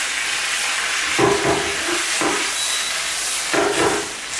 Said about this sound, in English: When you hear the wok crackling